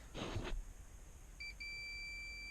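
On a Nissan Altima airbag harness, a multimeter in continuity mode beeps over a shorted airbag wire: a short interrupted tone, then a sustained high beep, faint and close, after a brief rustle of handling.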